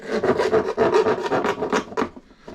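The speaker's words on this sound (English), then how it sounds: "I'll just get a file in there. Clean up those edges." Hand file rasping over the edges of a hole drilled in the hull of a Seapro 310 HD sea-fishing boat, a quick series of close, rough strokes in steady rhythm, heard alone.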